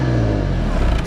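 A 2012 BMW 523i engine accelerating hard, with a loud, close, continuous rising roar, alone with no talk.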